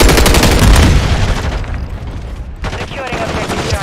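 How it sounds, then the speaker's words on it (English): Gunfire and blasts fill a video game shooter firefight, with a heavy burst near the start that fades into lingering rumble, then renewed crackling shots; a voice speaks over the action. "Semtex incoming."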